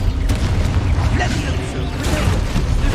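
A Confringo fire spell explodes in the Hogwarts Legacy video game, producing a loud, dense booming rumble with crackling bursts that fills the whole moment, with a voice talking over it.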